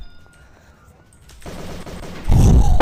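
Rapid gunfire in the Urban Chaos video game: a quiet stretch gives way to a rising burst of shots that grows loud and dense near the end.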